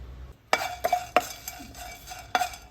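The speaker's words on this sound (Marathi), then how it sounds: "काढते आता मी लवंग मिरी दालचिनी मसाला वेलची दगडफूल हे सगळं एकत्र भाजून घेते" Cloves, pepper, cinnamon, cardamom and stone flower dry-roast in a hot pan for pav bhaji masala, with a spatula stirring and clinking against the metal in short, irregular strokes.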